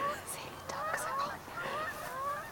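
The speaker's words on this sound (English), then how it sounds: "The noise of the ducks." Ducks calling outdoors in a string of harmonic, honking quacks that come in short overlapping bursts, fairly close and clear over a quiet background, with no talking.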